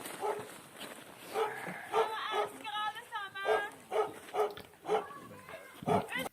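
A dog barks in a repeated run of short, sharp yips and barks, fairly close, overlapping with people talking and laughing in the room.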